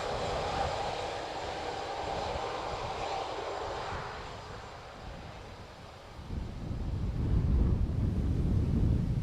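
Ryanair airliner arriving from Tenerife at Dublin Airport, a moderate steady engine roar that dips midway then swells louder and deeper near the end, no voices.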